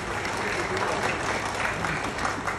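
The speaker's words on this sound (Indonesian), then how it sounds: "Tepuk tangan dulu." Applause from the audience at a university graduation ceremony, thick continuous clapping from a large crowd, loud and even across the whole moment.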